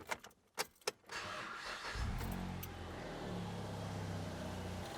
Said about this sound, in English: And then start the engine.